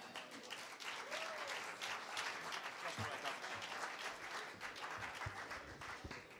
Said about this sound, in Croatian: Molim vas, jedan veliki aplauz za direktora Spone